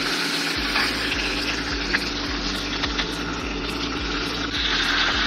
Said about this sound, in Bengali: এখন মাছের মাথাটাকে ভাজা করব